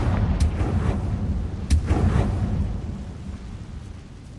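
A Confringo fire spell blast in the video game Hogwarts Legacy, a deep booming burst with crackling rumble, two sharp hits followed by a fading low roar, loud and close.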